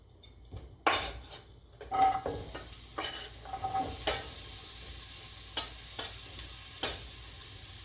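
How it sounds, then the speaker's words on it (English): Chopped onions and green peppers hit hot oil in a pot for a lentil coconut curry stew, giving a sharp burst of sizzling followed by repeated spoon clanks and scraping as the vegetables are stirred. "I'm gonna add the onions and the green peppers right inside."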